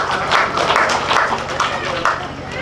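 A crowd claps at a wedding evening celebration. Brisk, fairly loud applause carries on throughout, with voices talking over it.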